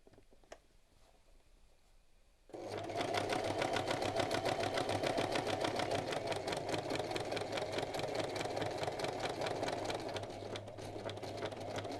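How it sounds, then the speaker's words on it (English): A sewing machine stitching fabric for a costume, starting after a quiet pause and then running in a fast, continuous mechanical rattle with a steady hum, close and uninterrupted. "now I temporarily sew that on and then check whether it looks right."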